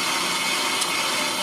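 An older shop brake lathe cuts a brake drum, giving a steady, even whirring grind that holds at one level without pause.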